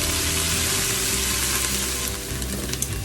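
Onions for a sausage, kale and white bean soup cook in a pot with a loud, continuous close sizzle and faint stirring near the end, no voices.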